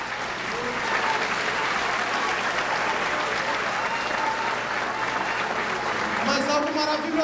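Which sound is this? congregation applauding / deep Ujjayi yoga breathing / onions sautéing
congregation applauding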